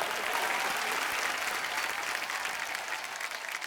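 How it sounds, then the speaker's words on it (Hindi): Studio audience on a Hindi TV comedy show, The Kapil Sharma Show, gives loud, sustained applause welcoming yoga guru Baba Ramdev, a dense even wash of clapping that tapers slightly at the end. "जोरदार तालियों से स्वागत करिए योग गुरु बाबा रामदेव का।"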